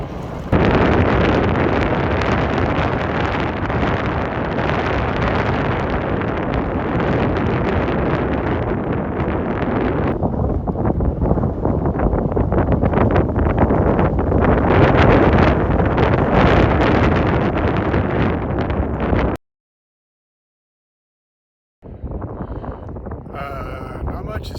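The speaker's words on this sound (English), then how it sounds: "just pushing through the wind" Strong headwind roars across a cyclist's microphone in a loud, steady broadband rush that runs for about twenty seconds, drops to a brief silence, then picks up again more faintly.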